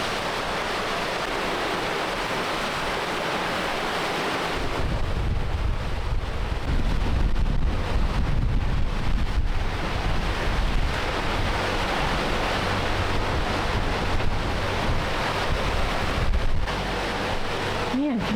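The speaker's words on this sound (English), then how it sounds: "The waves picked up. Big time." Rough open-ocean waves with heavy wind on a sailing boat making a passage toward Australia: wind roars against the microphone, then a louder, lower wash of surf and hull noise takes over and carries on steadily.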